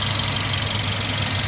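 A Mercedes A-Class A180 engine idles steadily up close, a smooth even rumble with no knocks or rattles standing out.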